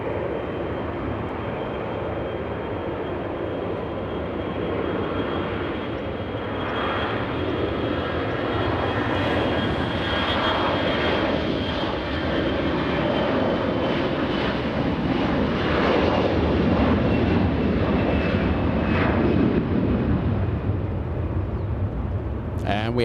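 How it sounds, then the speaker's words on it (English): A Delta airliner takes off from a runway at LAX, a steady loud broadband jet roar that holds for over twenty seconds and slowly swells, with a whining tone riding on top. Faint talk may sit beneath it. "The one taking off, flying to Salt Lake City, we have Delta's"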